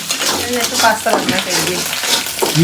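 Pasta cooking in a pan at home, with scraping stirring and a soft sizzle beneath voices talking close by.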